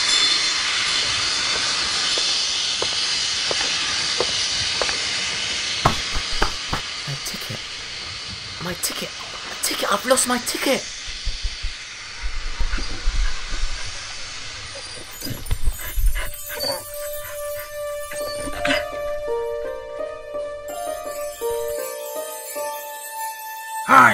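Train at a railway station platform, heard as a steady hiss and rumble of the waiting carriages with clanks and a squeal of wheels, people talking over it before the train pulls away in a shifting, tonal roar.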